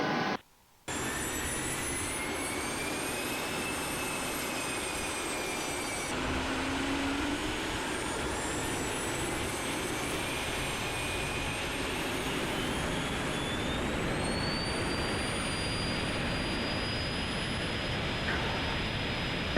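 A 2016 Cessna Citation Mustang jet takes off with a loud, sustained turbine roar and a high whine that climbs steadily in pitch as it gathers speed, heard alone from close by.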